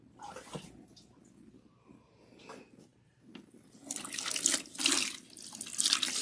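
Water rinsing a protein treatment out of natural hair, starting as scattered splashes and drips, then swelling into a fuller, louder stream of water pouring and spattering nearby.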